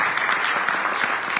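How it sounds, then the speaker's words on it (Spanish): Church congregation applauding, a dense steady wash of clapping that fills the short moment at moderate loudness, with no voices over it. "Denle un aplauso al Señor"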